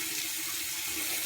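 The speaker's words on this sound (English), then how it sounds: "And then I like to just do one splash with some water," Tap water running into a sink during a face rinse after a clay mask, a steady broadband rush with no gaps, close and fairly loud, with no voices.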